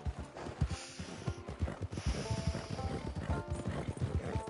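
A horse gallops in Red Dead Redemption 2: rapid, steady hoofbeats thud along at a moderate level, mixed with faint snorts and outdoor game ambience.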